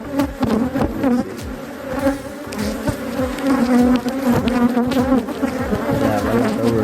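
A dense swarm of honeybees buzzes loudly and continuously around a hive removed from a house, many overlapping wing drones close by with shifting pitch.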